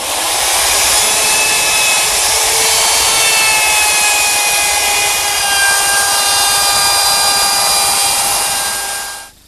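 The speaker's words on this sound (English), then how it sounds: "To take the edges off the handle, I'm using a 1/2 inch round over bit." A router fitted with a 1/2 inch round-over bit shapes the edges of a wooden coffee-table handle, a loud, continuous high whine with cutting roar that holds steady, then tapers off at the end.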